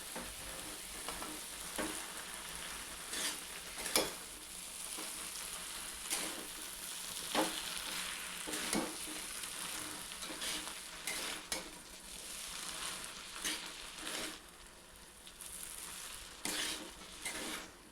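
Chow mein noodles with spices and curry leaves being stirred in a hot frying pan, a steady sizzle broken by repeated scraping and clinking strokes of a spatula against the pan, close and continuous with no talk.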